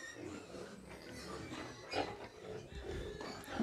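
Pigs on a farm in Cameroon grunt and oink continuously, a busy, low, muddled chorus of several animals close by, with a few louder snorts breaking through.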